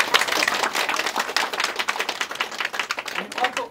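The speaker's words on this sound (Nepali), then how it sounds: "उहाँहरूको त्यागलाई पनि एकचोटि जोरदार ताली बजाइदिनु" Guests clapping at a 25th wedding anniversary celebration, a dense run of quick overlapping claps that continues steadily throughout.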